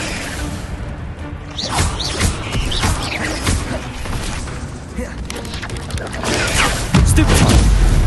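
Incendio fire spell cast in Hogwarts Legacy, heard as whooshing magical bursts and booms among game combat noise, with a louder rumbling burst near the end.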